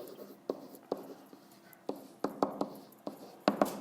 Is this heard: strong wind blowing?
no